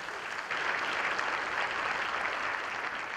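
Audience applause welcoming a singer at a commemorative ceremony, a steady, dense clapping that swells in after a brief moment and holds at full strength throughout.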